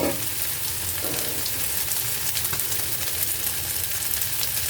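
Vegetarian fried rice sizzles steadily in a hot pan as the rice is stir-fried, a loud continuous hiss and crackle with faint scraping, and no talk.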